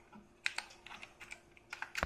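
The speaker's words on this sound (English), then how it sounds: "Alright guys, so here's my old PS2 keyboard. It works just fine." Someone types on an old PS/2 computer keyboard, the keys clicking close and clear in quick, uneven bursts.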